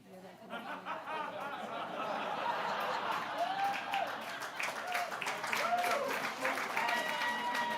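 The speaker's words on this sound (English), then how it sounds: "Yeah, second round of applause." A second round of audience applause at a medical school awards ceremony, dense clapping swelling up and holding steady, mixed with scattered chuckles and a few voices talking underneath.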